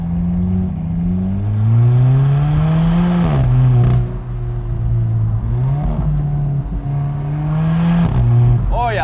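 A close, loud Alfa Romeo 4C Spyder sports car engine holds a steady drone with pitch swells as it revs and shifts through gears, with some talk over it.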